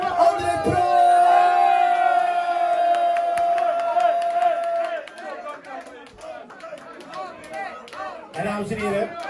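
A crowd in a cafe cheers, shouts and claps at a single presentation, a loud sustained roar with a voice carrying over it, fading into scattered clapping and chatter.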